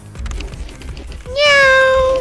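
After some background tapping, a person loudly imitates a cat's meow with one drawn-out, whining vocal note.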